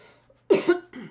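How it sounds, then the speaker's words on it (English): A single harsh cough, close and loud, with a short throaty breath before it and a softer trailing sound after. "Excuse the cough."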